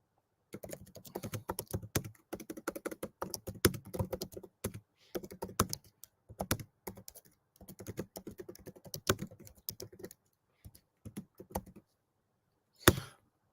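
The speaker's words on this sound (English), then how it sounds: "Just typing a question in" Someone types on a computer keyboard in close, crisp bursts of rapid clicks broken by short pauses. The typing stops, and after a gap a single louder knock sounds near the end.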